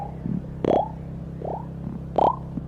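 A burp, a few short belching bursts with rising pitch over a low steady hum, loud and close with no talk.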